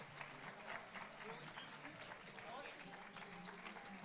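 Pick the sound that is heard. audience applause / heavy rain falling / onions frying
audience applause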